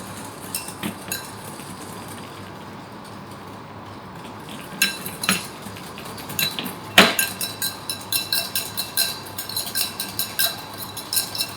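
Utensils clinking and scraping against a bowl while mixing sugar into a chouquette batter with chocolate cream; close, irregular metallic taps that grow busier and more rhythmic toward the end, with no voices.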